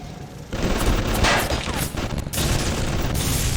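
Security turret opening fire in BioShock, a sustained burst of rapid gunfire lasting about three seconds amid other game noise, loud and close with a brief dip midway.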